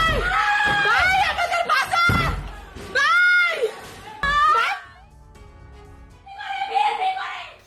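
Women scream and wail for help during attacks on Hindu homes in Bangladesh, with shrill, rising cries and panicked shouting overlapping in several bursts, close and loud, amid a chaotic crowd of voices.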